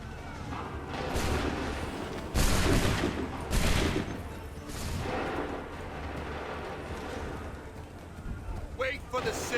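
Musket volleys crackle in a battle from Assassin's Creed 3, with several loud broad bursts of gunfire rising over a dense, continuous din and shouted voices.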